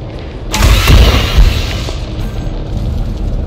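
A loud deep boom as a ship is destroyed in the space game Elite Dangerous Odyssey, a sudden blast followed by a second thump and a long rumbling decay.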